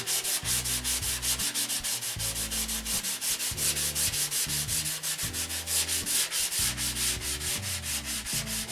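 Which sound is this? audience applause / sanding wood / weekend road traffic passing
sanding wood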